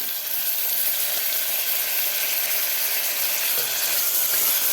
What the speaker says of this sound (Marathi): टोमॅटोसुद्धा आपल्याला व्यवस्थित सॉफ्ट होईपर्यंत परतून घ्यायचं आहे